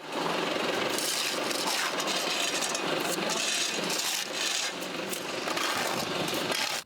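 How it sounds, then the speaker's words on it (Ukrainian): Municipal machinery works during cleanup after shelling, a broad, steady mechanical roar with grinding and rasping texture that carries on nearly unbroken and dips only briefly. "Звідусіль чути, як працює комунальна техніка."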